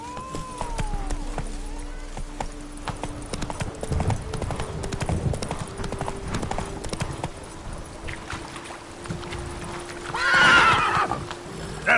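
Roach the horse from The Witcher 3 gallops with rhythmic clip-clopping hooves, then gives a loud, close whinny near the end over a low game ambience.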